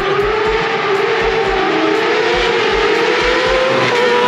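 A modified car with a changed exhaust, new cam and an added ECU module, rumbling loud and steady at close range, with a sustained engine drone and a low rhythmic pulsing throughout.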